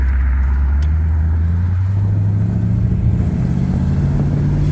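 A 1975 Chevrolet Corvette C3 Stingray accelerates from inside the car, its loud engine drone holding a steady low note that rises gradually in pitch as it pulls, with no talk.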